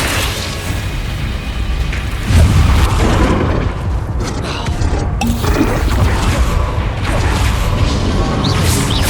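Bombarda spell explosions in the video game Hogwarts Legacy: repeated heavy booms and crashes with whooshing bursts layered over continuous battle noise, loud and close throughout.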